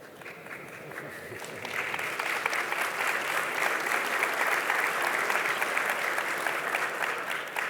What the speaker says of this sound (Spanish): Aplauso a don Miguel, porque están siendo los primeros